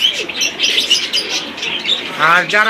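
Busy bird chatter with chirps and pigeon coos close by at a pigeon market, while a voice speaks briefly near the end.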